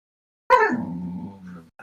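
A dog lets out a sharp close bark that trails into a whining growl, loud and alone in an otherwise quiet indoor room.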